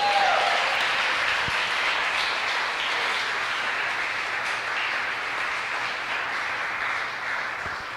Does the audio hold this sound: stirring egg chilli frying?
no